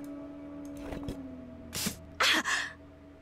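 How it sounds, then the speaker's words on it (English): Crumbling rock in a volcanic cave in the Nancy Drew game The Creature of Kapu Cave: a few short, crunchy bursts of breaking, sliding rock that grow louder toward the end, over a low steady hum. "Crumbling rock."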